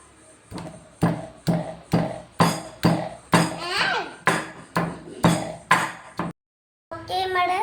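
Cut pieces of Moovandan mango are crushed with about ten evenly spaced, loud, sharp pounding blows close by. After a brief silence, a voice speaks at the end.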